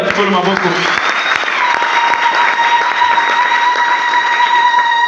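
A church congregation applauds to acclaim the Lord, a loud sustained wash of clapping. A steady electronic tone or keyboard chord holds beneath it and voices mix in at the start.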